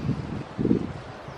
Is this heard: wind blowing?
yes